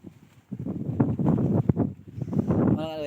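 Strong gusting wind buffets the microphone in a low, rumbling roar that surges and dips, with a brief voice near the end.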